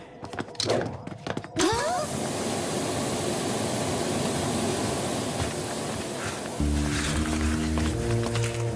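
A cartoon helicopter's engine runs as a loud, continuous rumbling drone after a few sharp bangs at the start, and a sustained musical tone joins it near the end.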